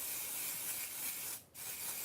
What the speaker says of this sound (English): I think we'll definitely spray the heck out of that